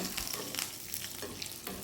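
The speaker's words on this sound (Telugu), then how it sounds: "కరివేపాకు కూడా వేగిపోయింది" Curry leaves crackle and sizzle in hot oil for a coconut chutney, a steady close frying hiss with small pops and a few stirring scrapes, no voices.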